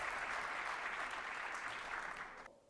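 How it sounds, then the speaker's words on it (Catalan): Audience applause at a festival award ceremony in Reus, a steady wash of many clapping hands that holds evenly and then tapers off near the end. "I aquest aplaudiment, aquest fort aplaudiment."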